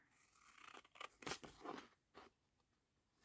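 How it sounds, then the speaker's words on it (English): Scissors snipping out a piece of paper for a junk journal, with several short crunchy cuts clustered together and close by, followed by a fainter final snip, no talking. "let's cut this out"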